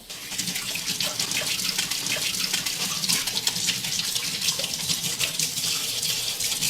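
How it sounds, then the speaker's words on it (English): A water tap runs in a continuous, steady gush while a lemon is rinsed under it at an open mic event; the flow stays close and even from start to finish. "Turn the water on there."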